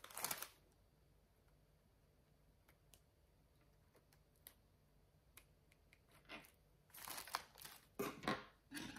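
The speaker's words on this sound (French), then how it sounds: "Je vais la découper, je veux bien voir." Scissors snipping through paper, a few faint scattered clicks early on, then a louder cluster of crisp cuts near the end, with no talking.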